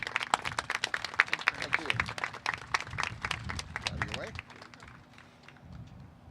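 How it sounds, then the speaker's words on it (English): Outdoor charity relay event crowd applauding to welcome a speaker, a burst of scattered claps and cheers that fades out after a few seconds, with some voices mixed in. "welcome Paul Pagano with a round of applause"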